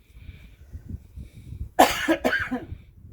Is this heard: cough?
yes